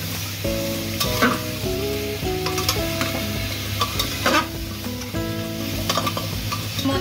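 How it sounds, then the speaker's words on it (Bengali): Chicken leg pieces fry in a pan for a Kolkata-style chicken stew while being stirred, with a steady close sizzle under repeated scraping stirs and light clatter. Background music plays along, with no voices. "আমি এর মধ্যে দিয়ে দিলাম লেগ পিস, দিয়ে সুন্দর করে নেড়ে নেব।"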